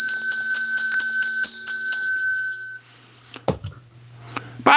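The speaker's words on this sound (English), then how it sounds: "Let me ring the bell." A bell rings rapidly and repeatedly, about a dozen loud, bright strikes in quick rhythm that then fall silent, followed by a couple of sharp knocks in a quiet room.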